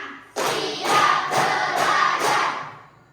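A classroom of children clap their hands in a counting game, five loud group claps in an even rhythm that fade out at the end.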